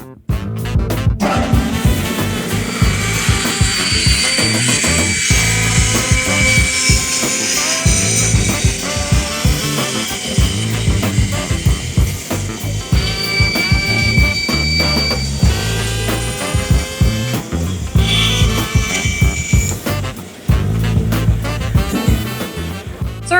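A woodshop band saw runs steadily and loudly through a cut in a piece of material, a continuous whirring hum with a faint high whine, close by and alone, without pauses.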